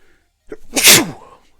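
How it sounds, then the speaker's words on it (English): One sharp, loud sneeze from a person nearby, a short intake of breath followed by a single burst, then quiet. "Just sneezing on stream here."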